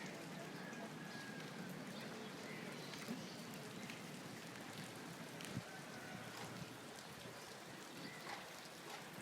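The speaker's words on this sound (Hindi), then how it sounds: "तो ये तकरीबन वक्फे से रात से बारिश हो रही है" Steady rain falling in Lahore, a dense continuous patter of drops on surfaces, fairly faint and even throughout, with occasional soft background voices.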